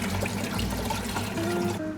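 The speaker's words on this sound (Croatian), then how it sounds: "pa ću doliti još jedan cijeli vrč vode" Water pours steadily from a jug into a cooking pot for stuffed peppers, a soft continuous splashing trickle that fades out at the end.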